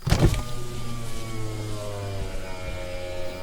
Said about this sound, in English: I think that car's slowing down.